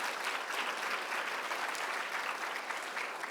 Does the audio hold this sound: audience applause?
yes